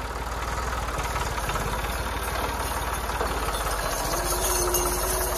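A Massey Ferguson 260 tractor engine idles close by in a steady, loud, rhythmic diesel chug that runs throughout.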